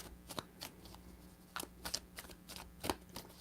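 Tarot cards being shuffled by hand, a few crisp riffling bursts close to the mic separated by short pauses, with no talking.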